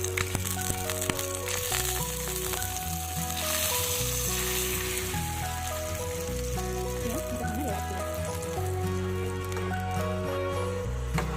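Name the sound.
milk being stirred in a hot pan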